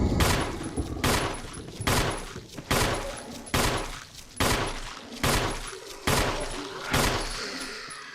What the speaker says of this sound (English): So we're finally gonna use our gun.